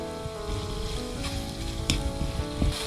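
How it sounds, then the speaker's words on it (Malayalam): A hot pan of cauliflower pepper fry sizzles loudly as fresh coriander leaves are added, with a few stirring scrapes and clinks over the continuous close-up frying hiss. "ചൂടായിട്ടുണ്ട് കുറച്ച് മല്ലിയില കൂടി ഇട്ട് മിക്സ് ചെയ്യാം"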